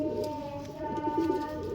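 Pigeons in a loft coo in low, throaty bursts over a steady background drone, close and moderately loud with no talking.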